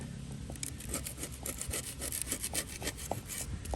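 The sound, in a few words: scraping the inside of a Big Green Egg dome with a shim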